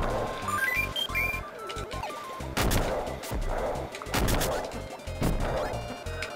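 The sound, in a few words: bomb explosions in Kirby Super Star Ultra video game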